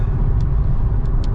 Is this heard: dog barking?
no